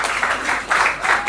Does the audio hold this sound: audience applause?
yes